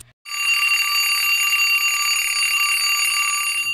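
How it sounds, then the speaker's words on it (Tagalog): After a brief silence, an electronic alarm clock starts up and rings loud and continuous with a harsh, buzzing, multi-tone sound, holding steady until the end with no voices. "Tunog ng alarm ni Axel"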